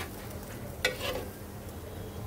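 Fried mola fish go into a pan of taro, giving a soft, steady sizzle with a brief stirring clatter near the start, close and low.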